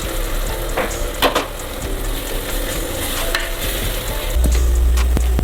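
Chopped tomatoes sautéing in a pan for prawn biryani, a steady close sizzle and crackle of frying with occasional stirring clinks, louder toward the end.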